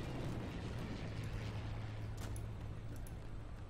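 A distant, muffled explosion rolls through a chaotic infantry firefight in the World War II shooter Day of Infamy, a dense, continuous roar of combat noise with a few sharper crackles and no clear single blast.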